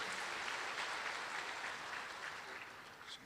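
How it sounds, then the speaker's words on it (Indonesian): Church congregation applauding in praise of God, a steady wash of many hands clapping that stays full throughout and eases slightly toward the end, with no voices rising above it. "Tepuk tangan yang paling meriah buat Tuhan."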